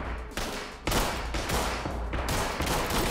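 Shotgun blasts in the tactical shooter Ready or Not, several loud booming shots fired in quick succession with ringing echoes between them during an indoor raid.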